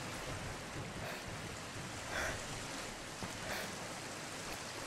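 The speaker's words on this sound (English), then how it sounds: "Nice waterfall here." A waterfall in the Sniper Elite 4 video game pours in a steady, dense rush of water that fills the whole stretch without breaks or voices.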